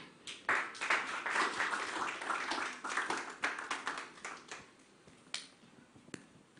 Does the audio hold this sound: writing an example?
no